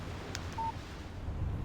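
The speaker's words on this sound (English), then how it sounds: "Text message from Barry." A mobile phone in the video game Alan Wake gives a short text message alert, a quick faint blip followed by a brief clean electronic tone over a low background hum.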